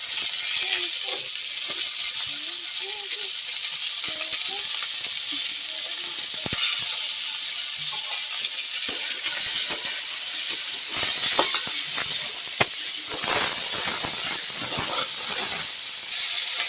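Drumstick flowers hitting hot oil in a home kitchen pan, giving a steady, loud hissing sizzle that runs throughout with small crackles and pops, no voices.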